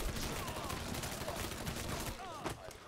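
Bursts of rapid gunfire in the crime game Mafia 3, a dense crackling fusillade of shots, close and fairly loud, with a voice speaking faintly over part of it.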